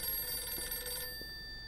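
A telephone rings in the detective game Blues and Bullets, a steady electronic bell tone that holds for about a second and then fades, fairly quiet and with no speech.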